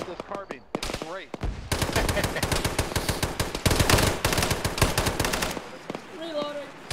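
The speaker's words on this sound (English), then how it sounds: "you squeeze off three round burst, it doesn't even go out of sight picture" Rapid carbine fire in the Arma military shooter, a long dense stretch of loud, evenly spaced shots after a few opening cracks, then a quieter tail with faint distant sounds at the end.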